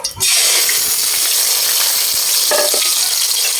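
A fern (pako) omelette mixture sizzles in a hot pan, producing a loud, continuous frying hiss after a brief drop in at the start, with a few stirring scrapes partway through.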